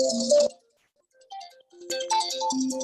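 A mobile phone ringtone plays a bright electronic melody in two bursts separated by a brief pause, close and clear with no talking over it.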